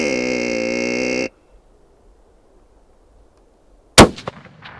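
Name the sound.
rifle shot during deer hunt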